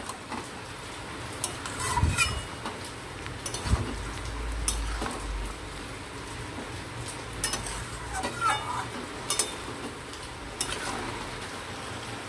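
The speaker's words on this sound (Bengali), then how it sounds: "এবার আমি ভালো করে কষাতে থাকবো" Fish-head and Malabar spinach curry being stirred and sautéed in a pan, with faint sizzling and occasional scraping clinks of a utensil against the pan, steady and close, with no voices.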